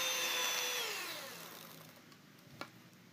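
An electric mixer beating butter for crunchy cookies whirs loudly at first, then its pitch falls steadily as it slows and cuts off, leaving near-silence broken by a single small click.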